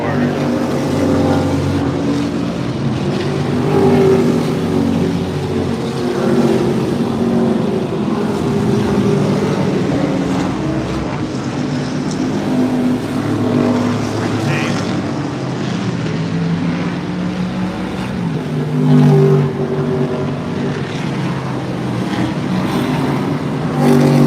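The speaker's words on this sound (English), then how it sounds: "Gonna look at the cars going by" Cars rolling past an outdoor auction display in Monterey, including a Lotus Evora and Porsches, make a steady, continuous engine and road rumble throughout, with a dense low hum and scattered crowd voices mixed in.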